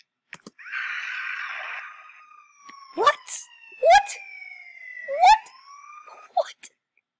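Electronic police siren wails sweep downward in several short bursts after an opening noisy blare, a Roblox game effect, fairly close and clear.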